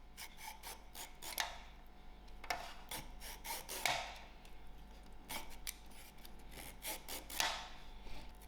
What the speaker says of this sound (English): This is a very young Loki and it's peeling up very easily.